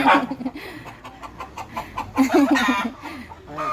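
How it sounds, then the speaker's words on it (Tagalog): Chickens clucking in short bursts, fairly close, mixed with a person's voice murmuring over the birds. "Pinaingay mo yung manok."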